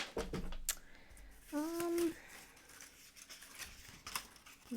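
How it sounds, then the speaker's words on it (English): Scissors trimming paper scraps, a few crisp snips and rustles of paper at close range, fairly quiet, with a brief tonal squeak partway through and no talking. "This one I can just trim down and put back in my scraps."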